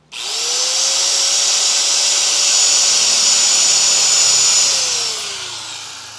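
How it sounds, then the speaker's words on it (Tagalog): A heavy angle grinder with 100% copper wire windings spins up fast to a loud steady high whine, runs evenly for several seconds, then winds down as the motor coasts to a stop. "At kakaiba po yung angle grinder na ito."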